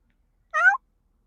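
A nervous little kitten riding in a car gives one short, clear meow, close and alone against silence.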